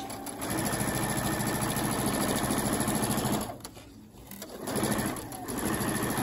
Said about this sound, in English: back stitch a couple of times, and continue to sew my 1/4 of an inch